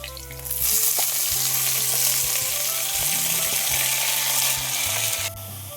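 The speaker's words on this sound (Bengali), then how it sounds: "রসুন কুচিটা দিয়ে দিচ্ছি লঙ্কাটাও দিয়ে দিচ্ছি ফোড়নগুলো ভাজা হয়ে গিয়েছে এবং শাকটা দিয়ে দেবো" Chopped garlic and chili hiss and crackle in hot oil for red amaranth greens, a loud steady sizzle that swells after a clatter and runs until an abrupt drop near the end.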